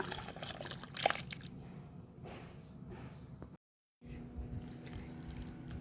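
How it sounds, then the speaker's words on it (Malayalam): Water mixed with fish scales is poured onto chili seedlings, a soft, faint trickle and splash that stops for a brief silent moment, then resumes. "ഇനി നമുക്ക് ഈ മീനിൻ്റെ ഈ വെള്ളവും ചെള്ളും എല്ലാം കൂടെ ഇതിലേക്ക് ഇങ്ങനെ ഒഴിച്ച് കൊടുക്കുക"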